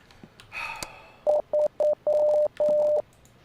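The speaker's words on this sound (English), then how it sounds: "Oh god, not Morse code." Morse code signal from the VR horror game Rise of Insanity: a string of clean electronic tones, three short beeps followed by two longer ones, played after a brief burst of noise and a soft breath.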